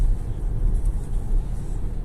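A 2022 MG ZS EV electric car drives along, its cabin filled with a steady low road rumble and muffled rolling noise, with no voices.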